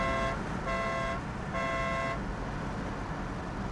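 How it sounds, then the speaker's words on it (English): An electric air horn on a Ford Mustang, heard from inside the car with windows down, blares in three loud tonal blasts followed by steady road and engine rumble. "Real quick test of the horn inside the car,"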